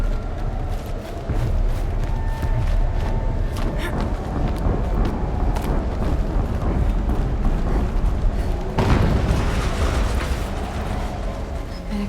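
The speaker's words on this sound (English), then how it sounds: "An explosion." Explosions and heavy rumbling fill a snowy outdoor scene in Horizon Zero Dawn, a dense continuous roar with a sharper burst near the end and faint talk underneath.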